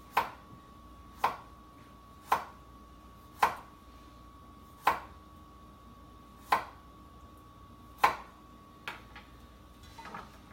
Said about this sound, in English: Carrot, I'll make fine slices from it.